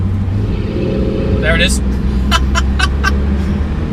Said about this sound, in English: just casually throw in a 600 horsepower V8 engine seamlessly